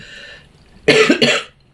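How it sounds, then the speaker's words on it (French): Two sharp, close coughs in quick succession break a quiet pause. "c'est l'encens là qui me fait un peu tousser."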